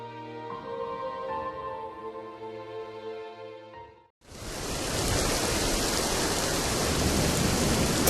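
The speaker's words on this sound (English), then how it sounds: "The rain poured heavily and bombs crashed into the Mandaeans' settlement." Heavy rain pouring down as a puppet show sound effect, a loud, dense, steady hiss that begins abruptly after a few seconds of tonal music and continues unbroken to the end.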